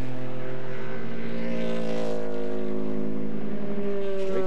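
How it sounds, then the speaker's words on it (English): American GT class race cars with big full-throated V8 engines roar past on a road course at the 2000 US Road Racing Classic, a loud continuous engine drone with strong harmonic tones and a rising pass-by sweep. "Great sound from those American GT cars. Mostly full-throated, big iron V8s."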